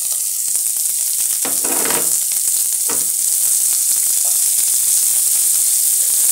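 Sliced calabresa sausage fries in a pan with a loud, steady sizzle and hiss, a few soft stirring scrapes rising out of the constant crackle.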